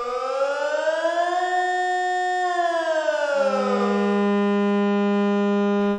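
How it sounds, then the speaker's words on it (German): A civil defense emergency siren sounds during a test, its wailing tone rising, holding, then falling and settling into a loud, steady pitch that cuts off at the end, with no voices. "Weiss jeder, was er da hört? Also Notfallsirene?"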